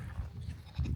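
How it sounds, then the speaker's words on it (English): Sheep in a valley give short bleats, a couple of close, wavering calls within a second, the last one louder. "little flock of sheep here"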